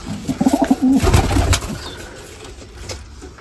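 Domestic pigeons in a cage give low, soft cooing calls close by, a few rolling coos early on that then fade into quiet background noise.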